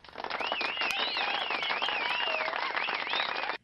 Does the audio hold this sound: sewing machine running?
no